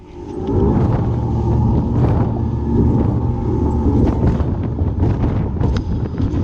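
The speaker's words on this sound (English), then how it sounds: "Lots of boat traffic, as you guys can hear" Steady low rumble of heavy motorboat traffic on a lake, with broadband wind and wash noise throughout and a few faint knocks; no talking.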